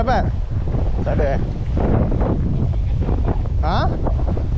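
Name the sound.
strong wind at sea while fishing from a boat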